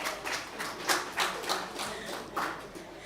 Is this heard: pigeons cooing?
no